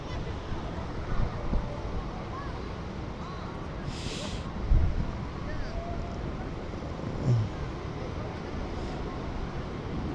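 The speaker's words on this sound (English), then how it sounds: "Alright, the wind's really strong now. It's like a windy day." Strong wind buffets a drone's microphone during a flight over Leyton, London, producing a continuous low rumble with a few louder gusts and no clear voices.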